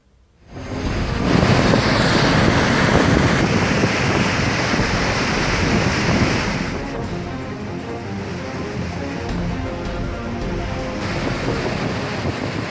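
Surging flood water released from Tenughat dam roars in a loud, steady rush, with wind buffeting the microphone and no voices.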